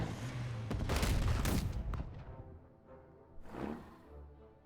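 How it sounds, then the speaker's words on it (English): Naval gunfire in the strategy game Unity of Command 2: a loud close burst of several booming shots fades out, followed by a fainter second boom. "Thankfully, we have naval gunfire to back us up."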